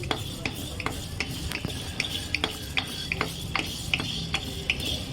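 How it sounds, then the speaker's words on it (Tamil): Coriander seeds fry in a kadai, with a soft background sizzle under regular scraping strokes of a spatula against the pan, about two per second, heard close with no voices. "அதே கடாயிலே ஃப்ரை பண்ணிக்கோங்க"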